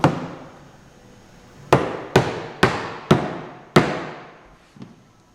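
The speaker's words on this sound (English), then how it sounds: "I'm just tapping it with the weight of the hammer" Six sharp hammer taps sound while building an arcade cabinet in an echoing shop. The first blow stands alone, then five follow in a quick uneven run and one softer tap closes, each ringing out into the room.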